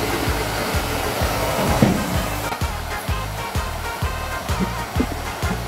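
A pet blower dries a dog with a loud, steady roaring airflow and a pulsing low throb throughout, close by, with no voices.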